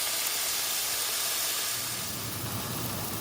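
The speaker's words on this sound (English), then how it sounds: "We're just gonna try to sear it on all sides" Pork belly sears in a hot pan for a stew, giving a loud, steady sizzle and hiss that fills the whole stretch without talk.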